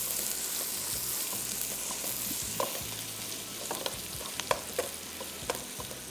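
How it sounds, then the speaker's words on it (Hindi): A large sliced onion frying in a pan: a steady, fairly quiet sizzle runs throughout, with a few sharp clicks of stirring in the latter half and no voices. "तो सबसे पहले यहाँ पे एक बड़ा प्याज स्लाइस किया हुआ इसको करूँगा फ्राई।"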